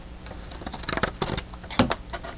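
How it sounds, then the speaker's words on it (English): Fabric scissors snip through a piece of fabric in a quick run of crisp, close cutting strokes, with a sharper snip near the end and no talk over it. "Funny how fabric scissors work so much better on fabric-y things."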